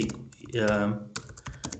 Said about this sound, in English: say if I'm typing in the console now